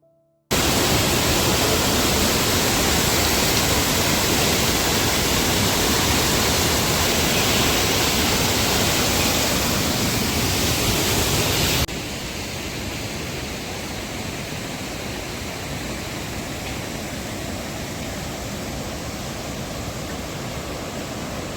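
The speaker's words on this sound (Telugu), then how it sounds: "మీకు ఇక్కడ చూపిస్తాను ఎలా ఉన్నదో ఒకసారి ఆ వాటర్ ఫాల్స్" Waterfalls on the Kedarnath trek roar with a dense, continuous rush of fast-flowing water, loud and close at first, then a little softer after a sudden shift partway through, with no voices.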